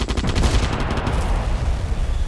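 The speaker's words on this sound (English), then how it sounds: "missile launcher." A monster missile launcher in a video game fires a dense, continuous barrage, loud rapid rumbling explosions filling the whole stretch without pause.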